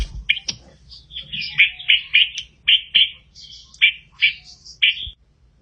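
A red-vented bulbul in a botanical garden gives a rapid series of bright, chirpy calls, close and clear against a quiet background.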